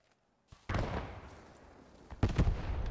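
Mortar rounds fired in the World War II video game Post Scriptum, two heavy booming launches after a brief silence, the first decaying with a long rumble and the second followed by a cluster of further thumps.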